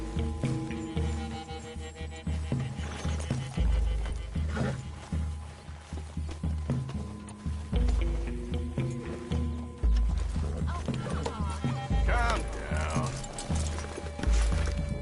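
Horse hooves clip-clop and a horse snorts and whinnies in the Red Dead Redemption 2 video game, galloping rhythmically over looping background music, with someone briefly speaking.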